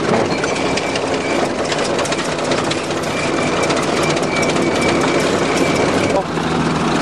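A farm machine's engine runs loud and steady while it is driven forward in third gear, a continuous rumble with a rattling, clattering texture that dips briefly near the end.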